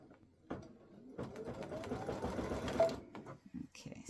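Sewing machine stitching a quilt with an edge-to-edge autumn leaves pattern, a quiet short burst of rapid mechanical stitching lasting about two seconds between soft handling noises.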